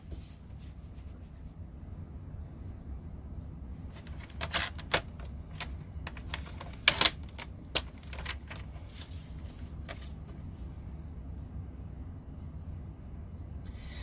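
A piece of card stock is cut to 1 3/4 by 1 3/4 inches with a paper cutter or trimmer, giving a short run of crisp scraping and slicing strokes near the middle, close by against quiet room tone, with no speech.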